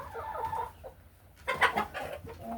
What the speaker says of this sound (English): I like the variety of hens.